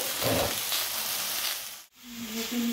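Panch phoron five-spice seeds fry in a pan, crackling in a close, lively sizzle that dips to near silence for a moment before resuming.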